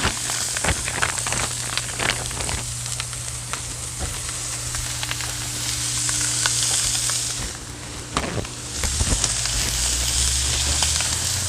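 Sous-vide cooked carrots searing in a hot pan for a brown sugar glaze, giving a steady, close sizzle with crackling bursts and a low background hum running throughout.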